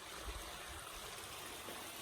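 A water stream on a Pacific Crest Trail stretch near Lassen National Park gurgles and rushes in a steady, faint, continuous flow, heard alone without voices.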